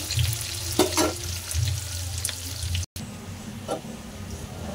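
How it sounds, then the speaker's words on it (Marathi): Onions fry in a pan for a Maharashtrian peas-and-potato bhaji, a moderate sizzle with a few stirring scrapes, briefly cut off and then continuing. "कांदा चांगला परतून घेऊया."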